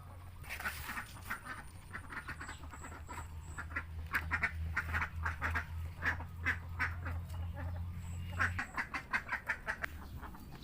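Ducks quack near a lime orchard in a steady series of close, loud quacks, with a low continuous hum underneath.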